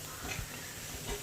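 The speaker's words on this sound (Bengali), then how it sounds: "হাই ফ্লেমে ভাজতে হবে।" Onion fritters (piyaji) frying in hot oil over a high flame, street-food style, give a steady, soft sizzling hiss with faint stirring bumps and no voices.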